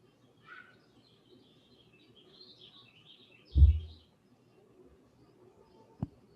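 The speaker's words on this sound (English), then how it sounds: "Yeah, I hear birds chirping," Birds chirp faintly in the background outdoors, with a soft, scattered run of high calls over a low murmur. Two sharp thumps stand out, the first a louder one near the middle and the second at the end.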